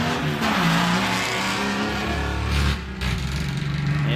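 An off-road race vehicle's engine roars at full throttle during qualifying, loud and sustained with shifting pitch, briefly dipping before surging again, close and without talking.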